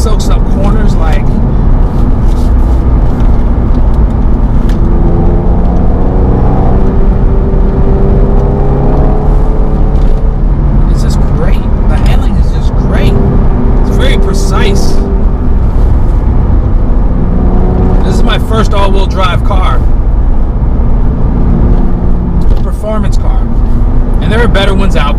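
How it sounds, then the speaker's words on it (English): A Porsche 997 Carrera 4 engine gives a low throaty gurgle while driving, heard from inside the car as a steady rumble with some rising revs, under continuous talk from a person aboard. "Just get that throaty gurgle."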